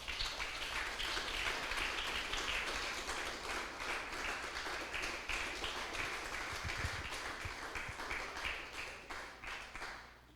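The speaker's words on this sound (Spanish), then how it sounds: "Denle un fuerte aplauso al Señor, aleluya." A church congregation gives sustained applause to the Lord, a long, even roar of many clapping hands with faint rhythmic pulses, moderately distant and continuing for several seconds before tapering off.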